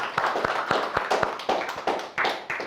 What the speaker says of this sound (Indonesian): Sebelumnya berikan aplaus dulu ya untuk